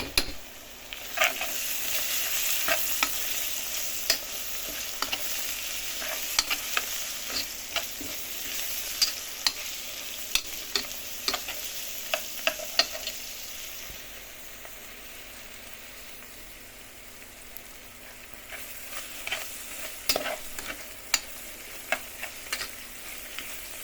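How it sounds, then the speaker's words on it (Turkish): Spoon scraping and stirring tomato paste in a pot with a soft sizzle underneath, repeated clinks against the metal throughout. "Ve salçamızı koyuyoruz. Karıştırıyoruz."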